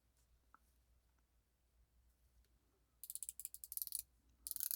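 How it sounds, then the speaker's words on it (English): A 120-click ceramic watch bezel on a Radcliffe Tsunami watch is turned, giving quiet near silence followed by two bursts of fast, crisp ratcheting clicks close up. "120 click bezel."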